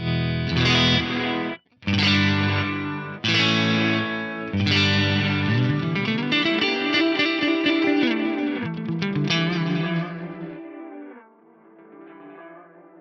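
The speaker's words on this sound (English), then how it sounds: "turn all of these delay levels up so you can hear it a bit more" Electric guitar through an Axe-Fx III ten-tap delay plays distorted chords and notes that smear into dense cascading repeats, the echoes swelling and shimmering before trailing off into a fading tail.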